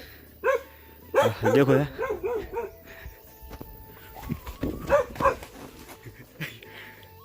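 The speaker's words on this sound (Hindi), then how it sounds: "जब भी आता जाता हूँ तो भौंकता रहता है।" A dog barks repeatedly at close range on a mountain hillside, the loud sharp barks broken by short gaps and mixed with whimpering and footsteps while someone talks.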